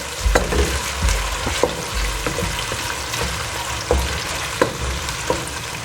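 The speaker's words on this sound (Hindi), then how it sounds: "अब आपने प्याज को हल्का सा ब्राउन करना है।" Two medium onions fry and brown in a pan for matar pulao, a steady close sizzle with occasional stirring scrapes and knocks of the spoon.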